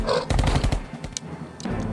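Toy soldiers battling orcs get a burst of rapid gunfire sound effect, quick sharp rattling shots, loud and close, followed by a short tail of scattered pops.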